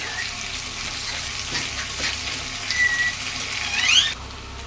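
Three onions fry in hot oil in a pan for a mutton and potato curry, giving a steady close hiss that swells briefly near the end, with no voices.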